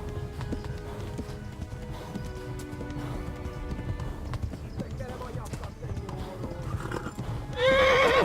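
A horse gallops with steady hoofbeats and lets out a loud, close whinny near the end, in the medieval video game Kingdom Come: Deliverance, amid battle ambience.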